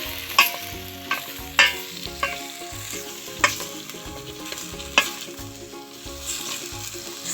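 Mıkla, a Turkish potato and tomato paste dish, stirred in a frying pan, with a steady sizzle broken by repeated sharp spatula scrapes and knocks against the pan at an irregular pace, over a soft tonal background.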